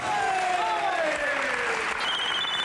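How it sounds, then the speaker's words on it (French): A TV studio audience breaks into steady, full applause that fills the room from start to finish, with a voice and a sliding musical tone running over it. "Applaudissons-la."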